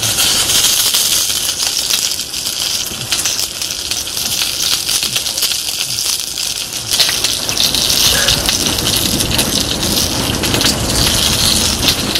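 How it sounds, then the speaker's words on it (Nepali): Heavy rain pouring down in a forest setting, a dense, continuous hiss and patter filling the whole stretch at a loud, steady level with no voices. "पानी पर्छ"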